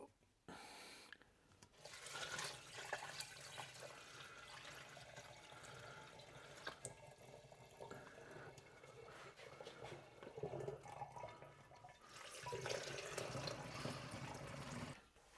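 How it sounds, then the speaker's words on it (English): Liquid pours and splashes steadily through a filter into a glass demijohn, a home-brewed lawn-grass wine, running as a continuous close wash of trickling and gurgling that swells again near the end. "we're now going to pour it through one more filter into the demijohn"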